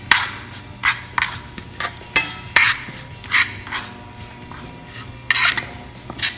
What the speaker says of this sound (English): I'm going to mix it till everything gets nicely popped up.